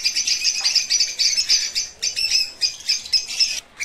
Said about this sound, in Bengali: যে সমস্ত পাখিগুলো সিঙ্গেল কেজে রয়েছে সেগুলোকেও কিন্তু এক ঝলকে আপনাদের দেখিয়ে দেওয়ার চেষ্টা